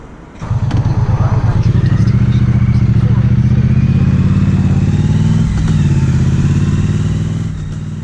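A Triumph Street Twin motorcycle rides along a country lane near Epping Forest. The engine gives a loud, close, steady throbbing drone that holds for most of the eight seconds, with wind and road noise mixed in and a slight easing near the end.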